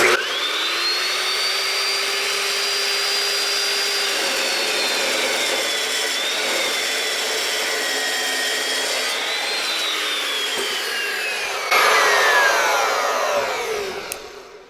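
A saw blade grinds steadily through hardened metal on an 1983 Kenworth K100C truck, a sustained loud whine with shifting pitch that rises briefly near the end before the cut stops.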